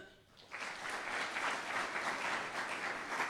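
A church congregation breaks into clapping during a sermon, beginning after a short quiet moment and building into steady applause that fills the room.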